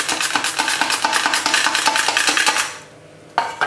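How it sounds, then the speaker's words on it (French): Carrot run across a mandoline blade into thin rounds, a quick steady series of crisp clicking slices for under three seconds, then a pause before one last sharp knock. "Vous allez tout simplement faire des rondelles très fines. Donc je les fais à la mandoline"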